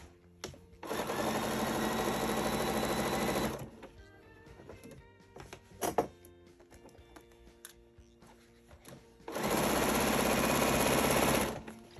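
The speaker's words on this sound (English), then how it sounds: "And now I'm going to start sewing." A sewing machine stitching pinned quilt block strips runs in two steady, loud whirring bursts of several seconds each, with quieter fabric handling and light clicks in the pause between them.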